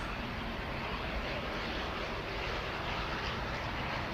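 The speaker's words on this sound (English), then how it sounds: "HDK coming in for Aer Lingus Regional, flight 3328 there" An Aer Lingus Regional airliner arrives at Manchester Airport with a steady, broad engine roar that stays even and moderately distant throughout, with no talking.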